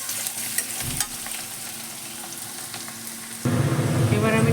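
Chopped garlic and black cumin fry in a pan while being stirred, a close crackling sizzle with scraping, jumping to a much louder, fuller sizzle near the end.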